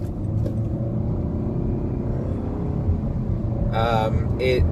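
A Nissan Altima 2.5 SV with a CVT transmission gives a steady, close engine rumble and road drone while driving, with a brief voice breaking in near the end.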